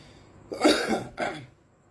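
Two quick coughs, close and fairly loud, the second one shorter, with quiet around them.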